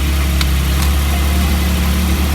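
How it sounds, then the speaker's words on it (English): A Porsche Cayman GT4 engine settles into a loud, steady idle right after starting. The low mechanical rumble stays close, and a couple of faint brief clicks can be heard near the beginning. "So you stick that bad boy right in that little slot right there and turn it. And there she goes. Car starts up."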